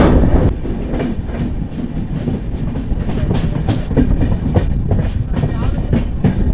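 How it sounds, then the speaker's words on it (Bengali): A passenger train departing Jasidih station rumbles along with a rhythmic clickety-clack of wheels on rails, loud and close from inside, with voices faintly underneath. "আমাদের ট্রেন কিন্তু এখন জেসিডি ছেড়ে বেরিয়ে যাচ্ছে"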